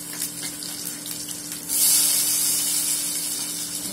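Sliced onions dropped into a hot pot with bay leaf for chicken biryani, a sudden loud sizzle and hiss that keeps going close by after a quieter start.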